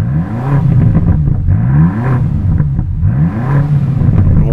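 BMW XM Label Red with its V8 revs repeatedly in loud, close rising and falling sweeps, each climb cut short by a soft rev limiter before the engine drops back and surges again.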